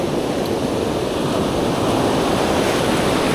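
Ocean surf rolls onto a beach at Jacksonville, Florida, a continuous close roar of breaking waves and churning water with wind buffeting the microphone.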